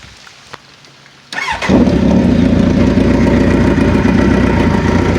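A 2003 first-generation Kawasaki Z1000 with a modified exhaust starts up close by after a quiet moment and settles into a loud, steady, low throaty idle.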